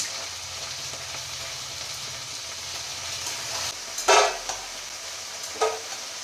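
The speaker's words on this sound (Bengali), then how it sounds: "এর মধ্যে আমি আলু আর ঢ্যাঁড়সটাকে ভালো করে আগে ভেজে নেব" Potato and okra frying in oil with salt and turmeric, a steady close sizzle with a couple of louder scraping stirs near the end, no talking.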